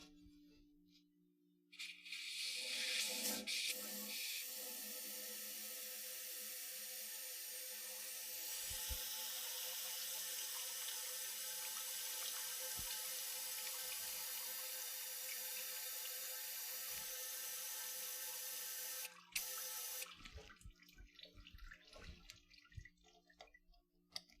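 Water rushes steadily through a hose being flushed out during work on an MGB car, a loud continuous gush that lasts about eighteen seconds before cutting off, then quieter drips and clinks.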